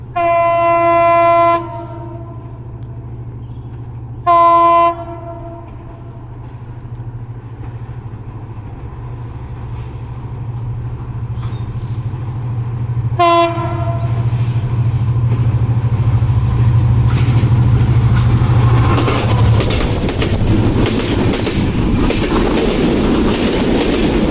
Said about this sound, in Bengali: খুলনা অভিমুখে কবরতক্ষ এক্সপ্রেস ট্রেনটি এখন আস্তে আস্তে এগিয়ে আসছে দুর্দান্ত গতি নিয়ে